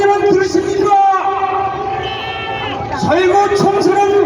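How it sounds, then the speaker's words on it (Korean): Loud crowd at a mass political rally in Gwanghwamun, Seoul, with a dense, steady roar of many voices and rising cheers that swell near the end. "함성을 윤석열 대통령은 들으십니까?"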